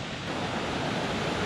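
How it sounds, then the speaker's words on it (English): Continuous broadband roar of a roughly 300-foot waterfall on the Trail of Ten Falls at Silver Falls, Oregon, steady and close, with no talk over it. "That's a real waterfall"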